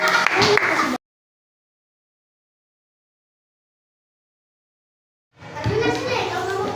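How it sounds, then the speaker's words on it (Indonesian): Schoolchildren applaud a classmates' group in a classroom, with excited children's voices mixed in. The sound comes in two short bursts separated by several seconds of silence. "kita beri aplaus untuk kelompok 2"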